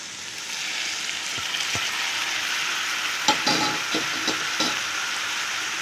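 French beans and tomato fry in hot oil with a steady broadband sizzle, and a few soft stirring knocks and scrapes come through near the end. No one speaks.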